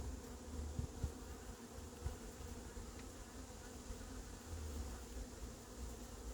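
A hornet buzzes steadily among beehives at an apiary near a mesh-covered hive tent, a continuous low drone with faint wingbeat flutter, quiet and close, accompanied by the murmur of other bees.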